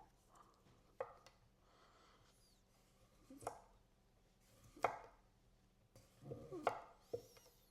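A sharp kitchen knife slicing through a beetroot, a few quiet crunchy cuts spaced apart and alone, with soft handling noise between strokes.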